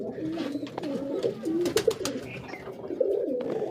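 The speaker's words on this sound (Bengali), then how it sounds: "দেখেন আমার বিভিন্ন কালারের কবুতর আছে" Colourful pet pigeons coo softly and repeatedly nearby, with overlapping throaty calls and a few brief flutters and clicks in the background.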